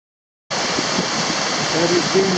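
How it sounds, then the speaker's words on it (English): Rushing mountain stream in the Alps on the Tour du Mont Blanc trail, a loud steady broadband water roar that starts abruptly and stays constant, with faint voices briefly audible underneath. "she's got an excellent subject, rushing mountain streams."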